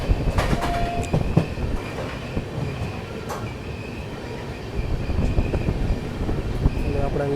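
Somnath Express 22958 with new LHB coaches runs along the track, a loud close rumble with rhythmic clickety-clack of wheels and occasional squeals, heard from inside the train near Than station.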